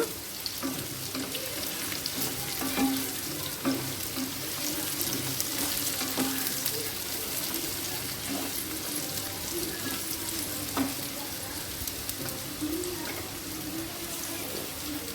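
Bitter gourd frying in a pan with jaggery, a continuous bright sizzle with intermittent scraping clicks as it is stirred, steady and fairly close with no talk.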